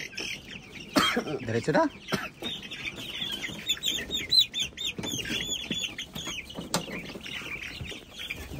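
Chickens cluck and squawk on a small poultry farm, with month-old stock among them: dense, steady clucking and scattered higher calls close by throughout, under a man's brief speech.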